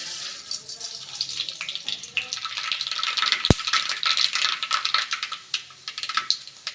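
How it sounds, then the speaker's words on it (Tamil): Dense crackling and popping of mustard seeds spluttering in hot oil in a pan, steady and close, with a sharp click partway through. "கடுகு நல்லா பொரிஞ்சிச்சு"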